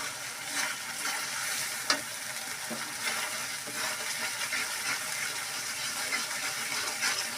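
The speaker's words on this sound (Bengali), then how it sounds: "এখান থেকে ওখানে সুন্দর করে নেড়ে চেড়ে দিব।" Prawn and coconut malai curry sizzles and fries in an old kadai while being stirred, giving a steady close hiss with scraping spoon strokes throughout.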